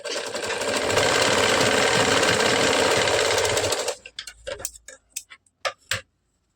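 A sewing machine stitches down the extra fabric margin of a katori blouse, running in a steady, loud mechanical whir for about four seconds, then breaking into short bursts of stitching with pauses between them.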